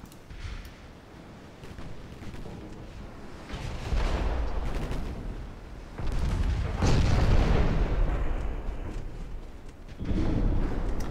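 Naval guns and torpedo hits in a warship video game with Japanese dreadnoughts produce heavy, rolling booms that swell and fade in several waves over a low continuous rumble, with no talk.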